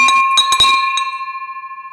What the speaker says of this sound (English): I love that bell, man.